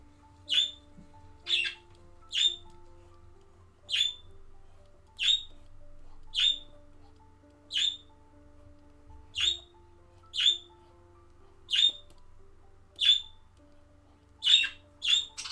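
Pet birds squawk indoors in sharp, regular bursts roughly once a second, bright and fairly close, over a low steady room hum with no talking.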